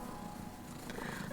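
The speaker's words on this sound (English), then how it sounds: "You're such a sweet kitty." Purring of a Persian cat being held indoors, a steady low rumbling hum running continuously and fairly close throughout.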